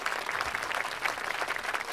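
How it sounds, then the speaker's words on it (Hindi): Clapping from a crowd in a Hindi comedy film scene, steady and dense throughout, moderately loud with no voices on top. "जोरदार तालियां।"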